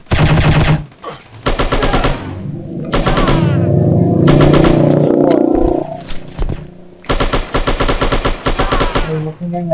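Loud, rapid machine-gun bursts ring out in the shooting video game Striker chapter 2, several long volleys separated by brief pauses, with a rumbling roar and in-game effects filling the middle stretch.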